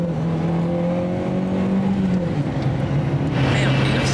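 A car engine strains and revs hard while chasing a black 4x4, a loud sustained drone that climbs, dips and builds again, with a voice talking over the engine noise.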